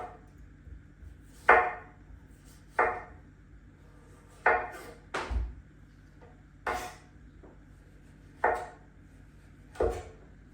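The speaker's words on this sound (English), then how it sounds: "Now you could just use a potato peeler here, and just for the sake of speed, I'm just going to use my knife." A knife peeling a papaya, sharp scraping strokes at steady intervals of about a second and a half, close and clear over a quiet kitchen background, no talking.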